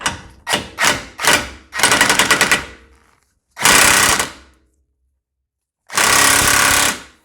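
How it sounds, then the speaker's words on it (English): Impact wrench on a wheel bearing bolt of a Ford Mustang during front bearing replacement: loud, close bursts of rattling hammering, a few short rapid hits, then longer sustained runs separated by silence. "now I'm going to lightly secure it with our impact"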